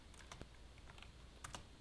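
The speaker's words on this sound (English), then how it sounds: "This is me trying to type on this keyboard." Quiet, quick keystrokes on a cheap $10 computer keyboard, a handful of irregular clicks close to the mic over a soft background hiss.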